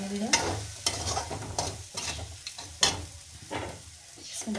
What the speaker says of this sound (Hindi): इसको मिला देती हूँ मैं, अच्छी तरीके से मिलाऊंगी